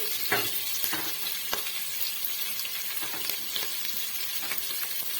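Onions frying in a pan for a broken-wheat upma, a steady close sizzle with occasional stirring scrapes and clicks, no voices.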